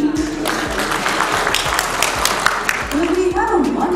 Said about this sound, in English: Let's start this day with a round of applause to welcome each other to IFSEC India Awards